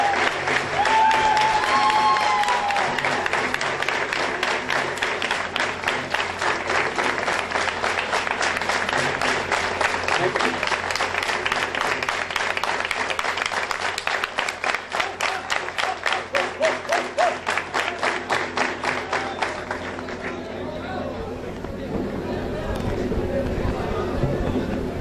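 An audience at a business event gives loud, sustained applause for a couple and their daughter invited on stage, the dense clapping running over twenty seconds with crowd murmur beneath before tapering off into a quieter hall.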